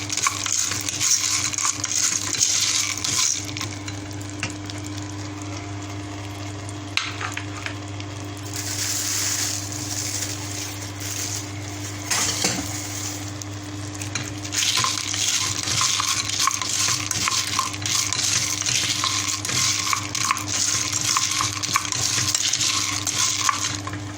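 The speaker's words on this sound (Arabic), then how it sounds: "المكرونه كده كام تقليبه. نشوحها في السمنه والزيت." Macaroni stirred in a pan of hot ghee and oil: a steady, continuous scraping and shuffling with a faint frying sizzle underneath, fairly close, with no talking.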